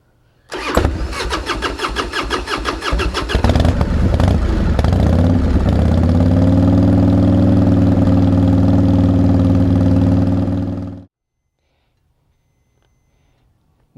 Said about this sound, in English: I'm going to go ahead and crank the bike.